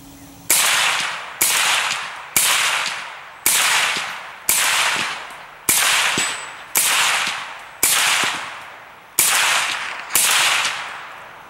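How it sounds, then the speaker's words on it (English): A short-barreled AMD 65 AK rifle in 7.62x39 fires through a Thompson Machine 30Ti suppressor: ten sharp, loud cracks at an even pace about a second apart, each with a brief ringing decay and no talking. "here is the Thompson Machine 30 Ti on an AK, specifically a SBR AMD 65"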